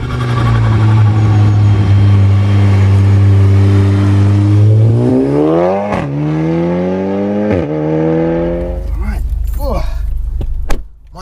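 A stripped-out 406bhp Audi S3 saloon pulls hard off the line, its engine droning loudly, then climbing in pitch through gear changes with sharp shift breaks, heard from inside the car.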